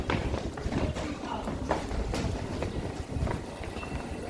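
London Underground District Line train, a dense rumbling roar with rhythmic clattering of wheels over track joints, steady and fairly close, with people talking over it.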